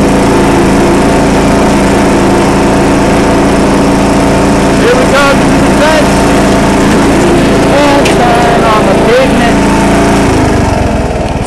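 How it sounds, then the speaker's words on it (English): A John Deere L100 lawn tractor with a 17 horsepower engine and 5-speed transmission runs steadily after a cold start, a loud continuous drone close by with no talk over it. "So this is our lawnmower."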